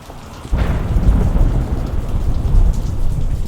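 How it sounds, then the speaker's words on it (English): Heavy outdoor rain pours steadily while a deep roll of thunder breaks in after a quiet start and rumbles on beneath the downpour, loud and close, with no voices. "It's starting to rain."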